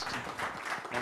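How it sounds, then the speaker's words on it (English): A brief, dense round of audience applause at a leadership and skills event, steady and moderately loud throughout. "Let's give Ralph a wonderful round of applause."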